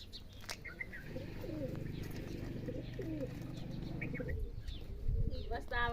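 Pigeons cooing close by at a farm near Girnar, low repeated throaty coos over a few seconds, with faint chirps, background noise and a brief thump near the end.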